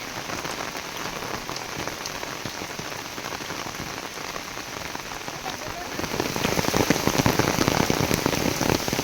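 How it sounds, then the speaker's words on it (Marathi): Heavy rain pours steadily, a dense hiss of drops drumming on surfaces that grows louder and fuller toward the end. "मस्तच पाऊस आला एकदम धो धो."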